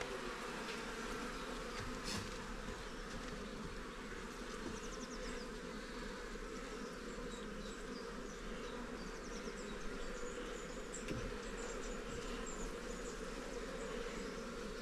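Dense, steady buzzing of many honeybees swarming close around a hive, a continuous drone filling the whole stretch without pause or voices.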